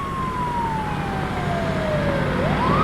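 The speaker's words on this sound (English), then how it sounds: "Here comes sounds like the police or sheriff." A police or sheriff siren arriving at a staged drunk-driving crash scene, a wailing tone sweeping slowly downward then rising again, heard steadily over broad outdoor rumble and noise, moderately loud.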